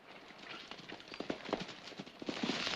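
Horses running off, their hooves clip-clopping in a quick, uneven rhythm of sharp strikes that grow louder toward the end, with no voices over them.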